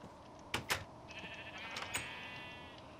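Sheep in the video game Minecraft bleat in a few short, sharp bursts close together, followed by a longer wavering bleat, then a final brief call over quiet background.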